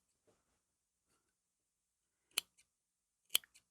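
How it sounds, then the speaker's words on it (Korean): Scissors make a few sharp, quiet snips as notches are cut into the curved edge of a coat lining fabric, two distinct cuts with small follow-up clicks in an otherwise silent room. "이 커브가 도는 쪽은 우리가 가위밥을 줘야 얘가 펴지겠죠. 특히 안감은 안 펴지니까 얘 가위밥을 이렇게 줘서"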